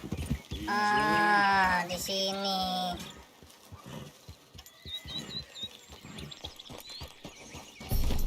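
A horse's hooves clip-clop at a steady walking pace as it climbs a mountain in the video game Red Dead Redemption 2. The hoofbeats come after a person speaks briefly and stay moderately close.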